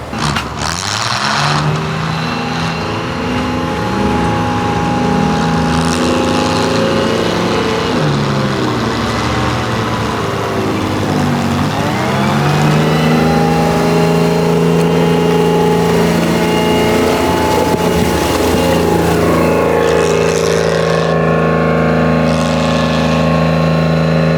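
An FV432 Trojan APC armored vehicle with a Rolls-Royce K60 multifuel engine at a historic military vehicle rally, its loud, rough engine droning steadily close by, pitch dipping and swelling as it revs.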